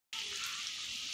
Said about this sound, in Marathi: वाटण छान परतलेलं आहे.